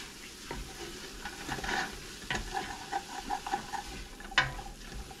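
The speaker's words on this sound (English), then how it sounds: "try to scrape up the bits off the bottom of the pan as that's cooking" Onions and sausage cooking in a pan for Zuppa Toscana, with a utensil scraping and stirring through a steady sizzle and repeated clinks and scrapes against the pan bottom, close and clear, no talking.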